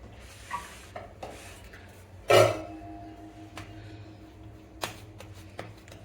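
Butter biscuit dough being patted flat by hand on a surface, giving a few soft dull slaps and rubbing thuds, one louder pat standing out among quieter taps, close and without talk.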